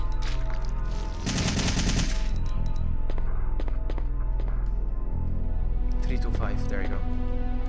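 Rapid bursts of gunfire from the Biohazard 3: The Last Escape video game, loud and dense around the second-to-third mark, then scattered shots and thuds over steady game music, with a voice talking over the action.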